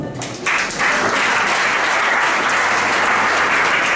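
Church congregation breaking into loud, sustained applause that swells after a brief lead-in and holds steady throughout.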